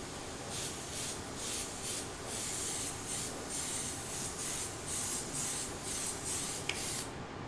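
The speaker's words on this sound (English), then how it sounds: "And we're gonna spray this one. It'll have the multicolor on here." Airbrush spraying multicolor chameleon paint onto a sample piece, a close hiss pulsing in about a dozen short, even bursts of similar length.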